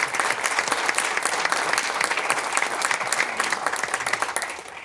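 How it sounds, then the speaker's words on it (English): An audience at an evening storytelling and music event applauds, a dense, loud wash of many hands clapping that holds steady and then tapers slightly at the end. "I didn't really hear a round of applause for Esther's story and for the"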